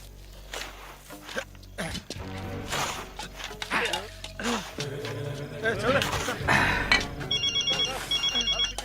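A telephone rings in a repeated electronic pattern near the end, following a stretch of shuffling movement and voices talking nearby.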